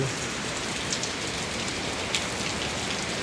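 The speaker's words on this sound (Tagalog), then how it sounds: "Lakas ng ulan." Heavy rain pours down steadily, a dense, loud hiss of drops hitting surfaces close by, with no voices.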